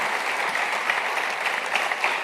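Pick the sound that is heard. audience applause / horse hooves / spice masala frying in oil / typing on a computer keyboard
audience applause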